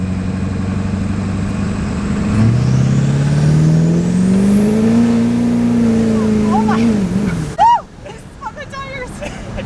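A built Duramax diesel truck revs and accelerates hard, its engine note climbing steadily and loud as the torque converter engages, then cutting off abruptly near the end with a few short squeaks and clatters afterward.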